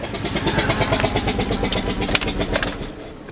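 A 2006 Mercedes-Benz C230 engine misfiring on cylinder six runs with a rough, uneven sputtering pulse, loud and close, with no voices.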